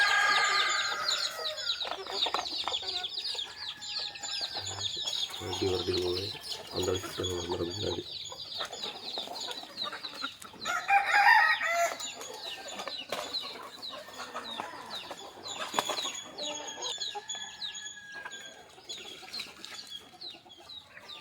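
Country chickens cluck and chatter around a rural yard with a possible rooster crow, the calls rising and falling over about twenty seconds while a person talks nearby.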